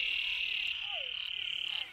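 Frogs croak in the Sertão do Pajeú, Pernambuco, after more than 100 mm of heavy rain, a steady high trilling chorus close by with another call sliding in and out.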